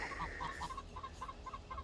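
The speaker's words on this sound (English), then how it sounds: "Additionally, we have some more chickens coming" Chickens clucking in short repeated bursts, a steady rhythm of soft calls on a farm during an afternoon walk, fairly close and moderately loud with light outdoor background.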